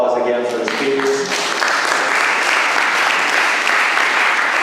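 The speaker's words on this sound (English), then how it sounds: "Everyone give a round of applause again for the speakers." Audience applause for the panel speakers at a Q&A event, dense and loud, continuing steadily throughout, with some low voices at the start.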